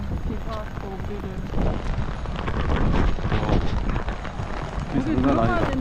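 Strong wind gusts during rain on a street in Prague, a loud continuous roar buffeting the microphone, while people talk and exclaim over it.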